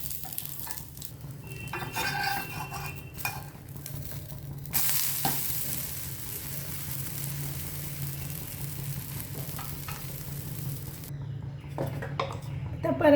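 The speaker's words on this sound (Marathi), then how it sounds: "आता मी झाकण उघडते आणि थोडं तेल घालणार आहे असं, आणि डोसा परतून घेणार आहे" Moong dal dosa frying in oil on a hot pan, a steady close sizzle running throughout with a louder burst partway in and faint clinks of utensils.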